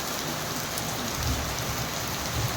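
Heavy rain pours down in a dense, steady roar of drops striking surfaces, loud and continuous with no voices.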